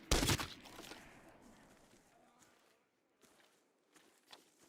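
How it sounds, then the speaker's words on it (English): A short, loud burst of gunfire cracks out at the start in a shooter video game, then fades into a quiet stretch with faint footsteps and scattered distant pops. "Oh, you're shooting at me."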